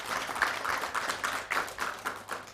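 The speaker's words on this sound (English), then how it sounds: "another round of applause" Light, scattered clapping from a small group at a high-level roadshow event in Johannesburg, distinct individual claps with an uneven rhythm, fairly quiet and close.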